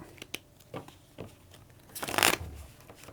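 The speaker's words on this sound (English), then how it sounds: "So I shuffle them back." A deck of KeyForge cards is shuffled during a tabletop game, with light taps and handling clicks leading into a quick, close riffle burst near the end.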